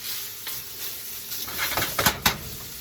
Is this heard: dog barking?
no